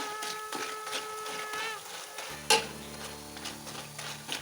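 Kerala nendran banana chips fry in oil, a close, steady bubbling sizzle punctuated by metal clinks and a sharp scrape midway, with a faint hum beneath and no talking.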